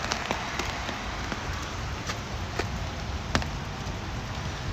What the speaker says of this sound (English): the rain is making the connection terrible